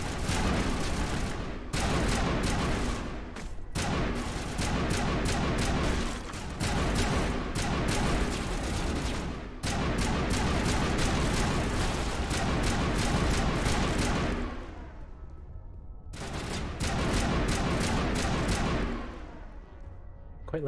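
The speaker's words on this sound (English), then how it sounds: "Quite like this machine gun." Sustained machine-gun fire in Mass Effect Legendary Edition, with loud, dense bursts of automatic shots that run nearly continuously for about twenty seconds, broken by short pauses.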